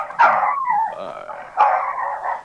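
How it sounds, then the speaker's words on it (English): A warg, a large wolf-like beast, growls and barks as a tabletop game sound effect in two loud, close, snarling bursts with whining yelps between them. "That's what this warg sounds like."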